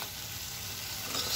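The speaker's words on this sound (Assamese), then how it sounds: "দৈটো এনেকৈয়ে অলপ ভাজিব লাগিব" Curd cooked with spices in a pan, a short burst of close, even frying sizzle with a slight rise toward the end, heard without speech.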